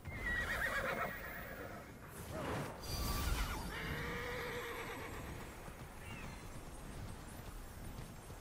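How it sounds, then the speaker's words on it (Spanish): A horse in the video game Immortals Fenyx Rising whinnies loudly and gallops, its neighs rising over a steady stream of clip-clopping hooves and game ambience that fills the whole stretch. "Caballito."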